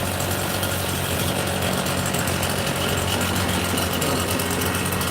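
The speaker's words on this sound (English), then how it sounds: "I got leaf blower, man, right next to me" A leaf blower runs right beside the listener, a loud, steady, unbroken engine drone with a constant rough hum that stays at the same level throughout.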